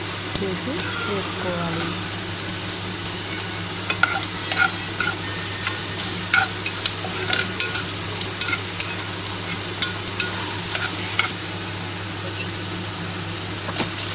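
Coriander seeds and cumin frying in a little oil for curry leaf chutney, a steady sizzle with frequent clicking stirs over a low background hum, with a voice talking intermittently.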